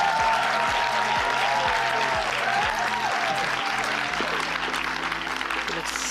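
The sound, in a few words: audience applause for a guest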